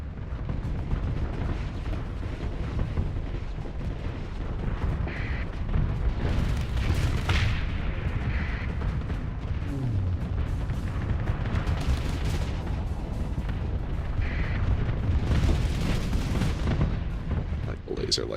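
Explosions from a bombing run in the space combat game Starsector rumble as dense, overlapping booms and blasts, loud and continuous with sharper bursts rising throughout.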